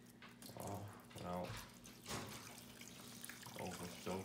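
Water from a gallon jug pours into the reservoir of an indoor greenhouse, a soft splashing stream that swells and fades in uneven surges, quiet and close.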